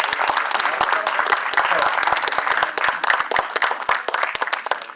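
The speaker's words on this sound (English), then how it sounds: "So, give her a round of applause." Loud, dense applause from a gala audience, many hands clapping at once with sharp individual claps standing out, sustained steadily throughout without letting up.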